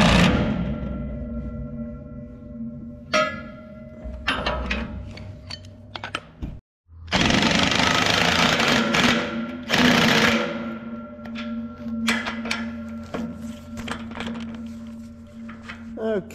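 A power tool, likely an impact wrench, whirs and rattles in loud sustained bursts while tightening a nut on the wing of a Case 490 disk, with a brief pause midway and machine hum throughout.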